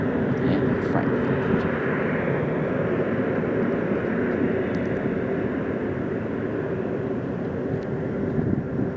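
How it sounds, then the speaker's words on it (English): A Lufthansa Airbus A330-300 roars through its takeoff run at Boston, its jet engines a loud, dense, unbroken rumble with a hissing edge that holds steady throughout. "One of my personal favorite aircraft engines. You gotta love the sound they make."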